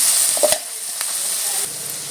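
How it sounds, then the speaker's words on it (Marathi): Onion stir-fried in a pan until it changes colour: a steady soft sizzle with a few scraping stirs of the spatula, close and moderately loud, no voices. "कलर चेंज होईपर्यंत आपल्याला कांदा परतून घ्यायचा आहे"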